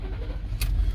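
A 2011 Lincoln Town Car engine turning over after its computer codes are cleared: a low rumble with a sharp broadband burst about halfway through as it catches, then a steady idle, close to the mic.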